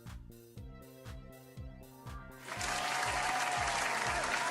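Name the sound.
audience clapping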